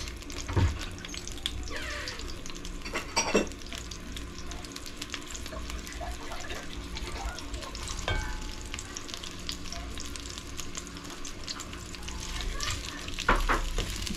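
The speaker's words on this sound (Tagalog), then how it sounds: "Gisa-gisa lang." Onions sautéing in a pan over medium-high heat for beef kalderetang balbacua, a steady low sizzle running throughout with occasional louder stirring scrapes and clinks.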